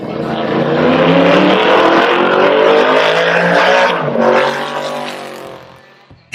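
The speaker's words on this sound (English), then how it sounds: "a thunderous 289 cubic inch V8 engine" A 1965 Shelby Daytona Coupe with a 289 cubic inch V8 roars loudly and close, its revs climbing steadily for several seconds before dipping and fading as it passes.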